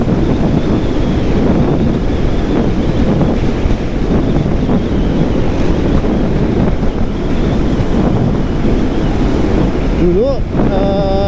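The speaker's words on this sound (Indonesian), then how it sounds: "Anginnya kencang banget." Heavy wind buffets the microphone in a continuous loud rumble while a motorcycle tours at about 90 km/h along a main coastal highway, with no talk and a brief tonal squeak near the end.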